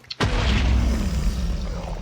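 An explosion in the video game Minecraft: a sudden loud boom after a brief click, followed by a rumbling blast that slowly fades over about two seconds.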